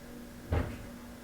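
A single soft thump of a door or cupboard opening, brief and fairly quiet against a faint steady hum.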